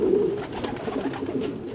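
Fighter pigeons in an enclosure coo in a steady, continuous murmur close by, the calls overlapping with no pauses.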